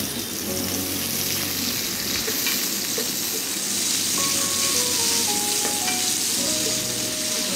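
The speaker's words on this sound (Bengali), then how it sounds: "এরপরে দিয়ে দিব আমি পেঁয়াজ কুচিগুলো। তারপরে হালকা আছে এগুলোকে আমি একটু ভাজবো।" Chopped onions fry in a pan with a loud, steady sizzle and crackle, close up and continuous with faint stirring, and no voices.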